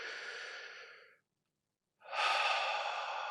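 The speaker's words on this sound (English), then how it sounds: "Nice deep breath." A deep breath drawn in and let out at close range, a long airy inhale, a brief pause of silence, then a fuller breathy exhale with no other sound around it.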